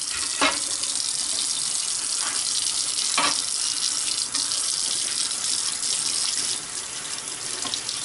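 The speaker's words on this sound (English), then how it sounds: "Wash the blade." Steady running tap water splashing over a meat slicer blade being washed in a sink, a loud continuous rush with a few brief clunks and shifts in the flow.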